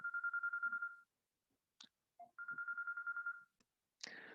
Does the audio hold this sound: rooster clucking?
no